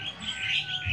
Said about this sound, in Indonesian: ini untuk anakan jalak kebo mata putihnya ya